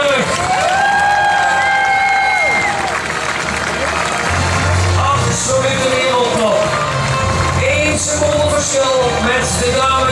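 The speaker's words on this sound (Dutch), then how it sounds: "geeft ze een geweldig applaus" Crowd applauding and cheering for a runner at the Seven Hills (Zevenheuvelenloop) 15 km race, loud sustained clapping and whoops under continuous announcer talk and background music.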